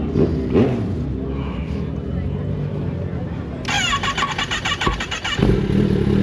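A motorcycle engine cranking as it struggles to start, a fast rattling starter whir rising after a few seconds, close and loud amid background voices and talk.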